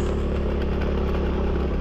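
A motorcycle engine idles steadily at the end of a dead-end trail, giving a close, even, low rumble that holds without a break and has no voices over it.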